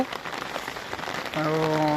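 Steady rain falls by a river, a dense hiss of drops spread evenly throughout, with a voice briefly talking near the end.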